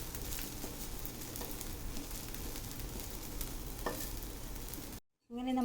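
Beetroot dosa sizzling and frying on a hot pan, a steady crackling hiss held for about five seconds at moderate level, then a sudden brief drop to near silence before a faint return.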